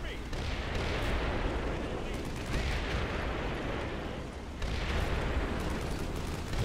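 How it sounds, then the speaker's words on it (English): Artillery fire in the Cold War wargame Combat Mission Cold War: a dense, continuous roar of booms and rumbling blasts, loud and sustained, with a brief dip midway before swelling again. "I've never seen combat mission American observers fire such inaccurate artillery."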